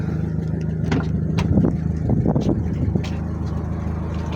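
A JDM Mitsubishi Pajero Jr engine with a 3-speed automatic idles with a steady low rumble, close by, with a few faint knocks and rattles over the hum.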